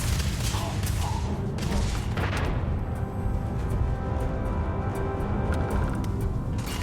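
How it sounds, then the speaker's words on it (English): Grenades go off in Starfield combat, a dense loud volley of blasts and crackling gunfire-like bursts packed together, continuous and close throughout. "Grenades are powerful."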